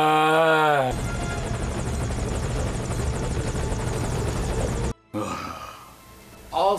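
A helicopter arrives in Metal Gear Solid V, its rotor roaring loud and steady with rapid chopping thumps after a brief tonal sound at the start, then cutting out suddenly and returning fainter.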